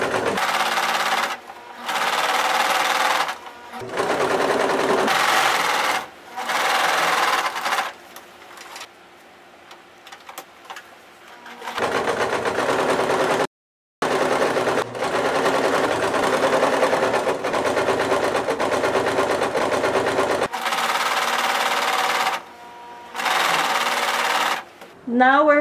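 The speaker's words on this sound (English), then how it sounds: "the sewer is not cutting the threads while sewing the edge of the side seam of the back skirt" Sewing machine stitching the side seam of a back skirt panel in loud close bursts of rapid mechanical whirring, separated by brief pauses, with a person talking over parts of it.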